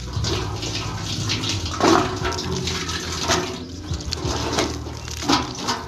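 Water gushing strongly from a tap during the rainy season, a continuous hissing rush close by with faint background sounds, no talk.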